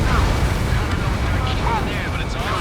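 Explosions rumble through a mission in the combat flight game Ace Combat 7 during a pipeline destruction run, a loud sustained low roar with dense crackling bursts and faint radio-style tones over it.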